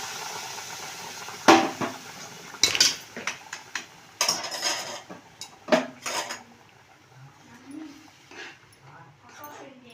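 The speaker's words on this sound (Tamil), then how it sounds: "பாலை ஊற்றி நல்லா கிண்டிக்கலாம்." A spoon scraping and knocking against a pan as semolina is stirred with boiled milk for a rava cake, irregular sharp clatters and scrapes that fade to softer stirring, with faint background sounds.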